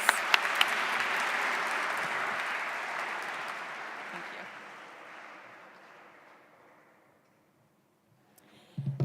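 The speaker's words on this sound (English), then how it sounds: "Let's give her a big round of applause." An audience at a welcome event on a university campus in Segovia gives sustained applause for the Student Services director, loud at first and steadily fading to silence, with a voice starting up at the end.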